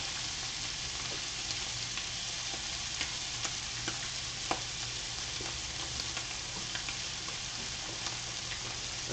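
Aromatics sizzle and fry steadily in a hot pan for a chicken dish, a constant crackling hiss with occasional sharper pops and stirring ticks, fairly close and without speech.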